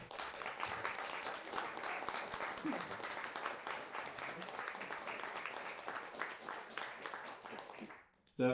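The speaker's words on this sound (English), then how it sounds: "I think Connor deserves a round of applause." An audience applauds for the new mayor's guest at a Glastonbury mayoral event: sustained, dense clapping over several seconds with some voices mixed in, ending abruptly.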